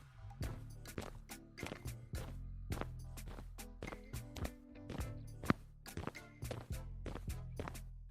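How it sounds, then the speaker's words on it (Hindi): Footsteps walk steadily in an animated Hindi story set on a forest path toward a mysterious cave, a run of even, thudding steps up close with no talk over them. "सिर्फ पैरों की आवाज सुनाई दे रही थी"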